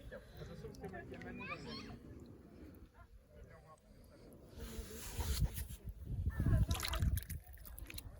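Water splashes and drains from a bathtub built on a beach, sloshing and gurgling close by, loudest toward the end, while a person talks over it in French.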